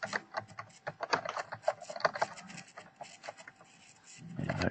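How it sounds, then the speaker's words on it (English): Barrel codes are typed on a computer keyboard as a quick run of close, crisp key clicks in uneven bursts, with a brief pause before a final flurry. "just type in those 2 barrel codes"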